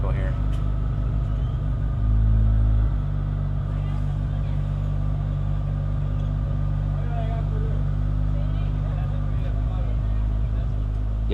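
A 2024 Acura Integra engine with a Hondata flex fuel E85 tune idles at high RPM, a steady low droning rumble with a brief swell in loudness early on, close and continuous.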